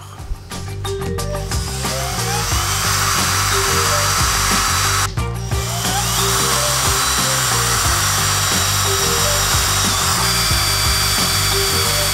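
A power drill bores holes in metal bars for a homemade lawn-tractor sprayer pump, with a high whining bit, repeated pulses of drilling and a brief pause midway, loud and close.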